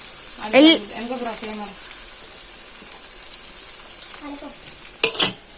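Onions frying in a pan for home-cooked egg curry give a steady sizzle and hiss while being stirred, with occasional utensil scrapes, and voices talk briefly over the cooking.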